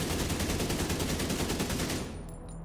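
Rapid automatic AK rifle fire in The Division 2, a loud unbroken burst of shots for about two seconds that then cuts off abruptly, leaving quieter game ambience.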